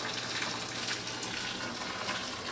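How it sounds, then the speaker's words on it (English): Boiling water poured over tomatoes to blanch them in a home kitchen gives a steady, close splashing gush that holds evenly throughout. "that's what it looks like when you pour boiling water"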